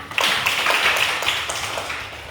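A small class gives a short burst of clapping during a classroom lesson, close and fairly loud, fading after a couple of seconds.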